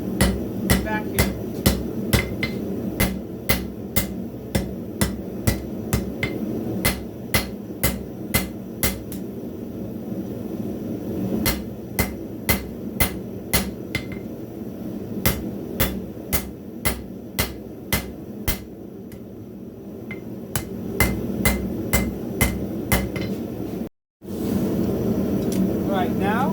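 Hammer blows thinning a skinning knife blade on an anvil, sharp metallic strikes in steady rhythmic runs with brief pauses, loud and close, with a voice talking at times between them.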